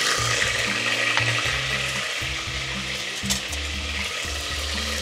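Ginger garlic paste and cumin sizzle steadily in hot oil, a continuous frying hiss with stirring scrapes, alone and close.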